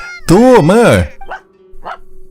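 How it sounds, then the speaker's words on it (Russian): A dog barking in the video game Genshin Impact, one long loud howling bark followed by two short softer yips, close and clear over a faint steady tone. "Да что ты лаешь? Ты собака"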